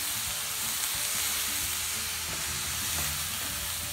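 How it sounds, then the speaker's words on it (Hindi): Grated bottle gourd roasting in ghee in a pan gives a steady, close crackling sizzle with occasional stirring scrapes, continuous throughout with no talk. "तो अब हम इसे घी में अच्छे से भूनेंगे।"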